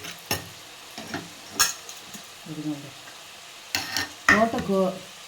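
Amaranth stems go into a hot frying pan with a few sharp clanks and scrapes, then a burst of sizzling. The sounds are close and intermittent, and a voice is briefly heard.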